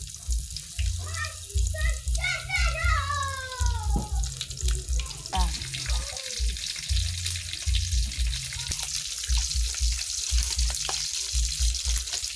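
Food frying in hot oil, a steady broadband sizzle that builds and holds through the second half, with someone talking over the first part.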